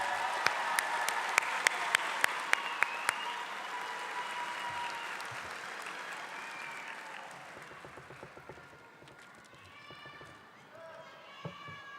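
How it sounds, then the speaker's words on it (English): Applause for parents and family members at a university spring commencement ceremony, with a few sharp claps up front, then a distant, fairly faint crowd clapping under voices and some chatter. "Let's give all the parents and extended family members a round of applause."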